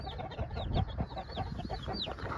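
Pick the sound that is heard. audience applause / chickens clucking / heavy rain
chickens clucking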